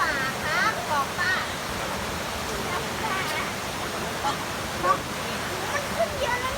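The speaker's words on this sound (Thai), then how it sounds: "น้ำตกนั่นแหละเขาเรียกน้ำอะไรเนี่ยน้ำแรงๆเนี่ยเขาเรียกน้ำป่าไหม" Forest flood water rushing hard at Wang Bo waterfall in Thailand, a broad steady roar filling the scene while people talk and call out over it.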